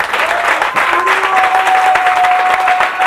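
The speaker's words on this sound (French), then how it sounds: "Est-ce qu'on peut applaudir pour MCR TV?" Comedy club audience applauding loudly and steadily throughout, dense clapping with a thin whistle-like tone drifting over it.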